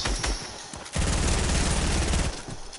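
Video game gunfire, a few scattered sharp shots followed by a sustained loud rattling fusillade lasting over a second, then tapering off, heard alone without voices.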